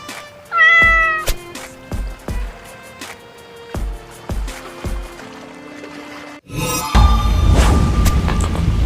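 A cat meows once, loud and close, in the Sakura School Simulator game, followed by a series of sharp clicks and thumps and a burst of noisy rushing sound at the end.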